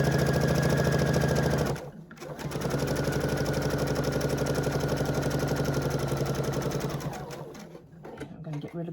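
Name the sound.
sewing machine stitching lines on quilted placemat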